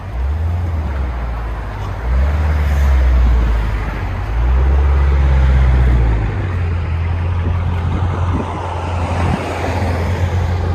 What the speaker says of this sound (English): Got a nice idle to it too